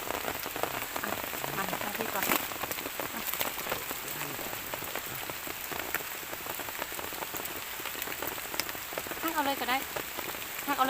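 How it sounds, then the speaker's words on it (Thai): Steady rain falls and patters on a nearby surface while termite mushrooms are dug, dense drops ticking constantly, with a few muffled voices faintly underneath. "ได้บ่ต้อฝนมันตกเนาะ"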